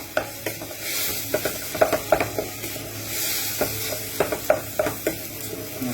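Leftover meat sauce gets stirred in a pan, a spoon scraping in irregular bursts over a continuous low sizzle, close and fairly loud, with no voices.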